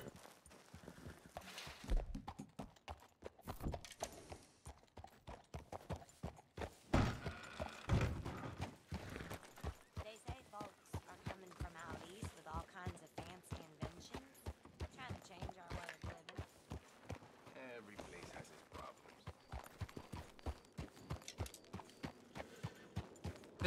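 Horse hooves clip-clopping steadily at a walking pace in a role-play video game, an even rhythmic series of hoof knocks close by, with people talking over it.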